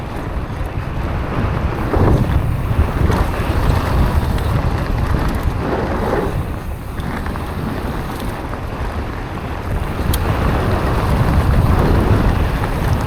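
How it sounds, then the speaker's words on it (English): Strong wind at a mountain bike park roars steadily into the microphone, buffeting in loud gusts with a low rumble throughout and no voices. "it's too windy"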